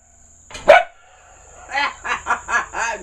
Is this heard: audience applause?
no